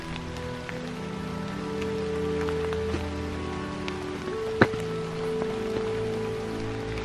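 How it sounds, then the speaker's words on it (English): Steady rain falls on leaves along a loop trail in the Julius J. Knobeloch Nature Preserve, a soft, even patter with a few sharper drips and a distant low hum beneath. "when you're hiking in the rain"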